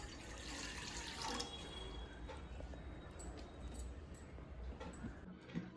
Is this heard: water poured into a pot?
yes